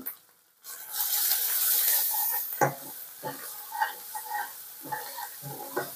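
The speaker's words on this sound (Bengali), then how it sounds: "দিয়ে এটাকে সুন্দর করে কষিয়ে নেব যতক্ষণ না মশলা থেকে তেল না ছেড়ে যায়।" Spice paste with Kashmiri chili powder sizzling in a pan for a yogurt chicken curry: a loud hiss at first, then intermittent stirring scrapes and crackling bursts, close and fairly quiet overall.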